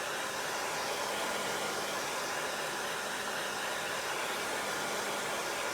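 A handheld dryer blows continuously up close, a steady even whoosh drying a layer of chalk paste on a craft project, with no talk.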